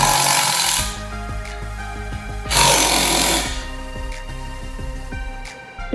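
Air chamber bolts being removed from a metal Wilden air-operated double-diaphragm pump with a pneumatic impact tool, two loud rattling bursts followed by quieter repeated clicks and taps, close by.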